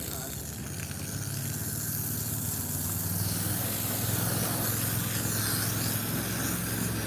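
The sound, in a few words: commercial pressure washer running while rinsing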